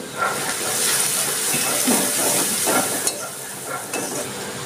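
Onions frying in a pan with a little sugar and turmeric give a steady close sizzle with soft hiss, broken by a few stirring scrapes.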